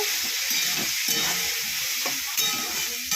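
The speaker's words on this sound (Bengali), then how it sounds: "তেলের মধ্যে আলুটা দিয়ে দিলাম, নুন দিয়ে দিল, নুন একটু ভাজা ভাজা হবে তো হলুদ দিয়ে দিল" Potato pieces fry in hot oil with salt and turmeric, giving a loud, steady sizzle broken by scraping stirs of a spoon against the pan at irregular intervals.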